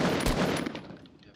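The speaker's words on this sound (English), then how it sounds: "I'm still gonna shoot at him, like, regardless." Gunfire in the Fortnite battle royale game, a rapid close burst of automatic shots that fades out within about a second.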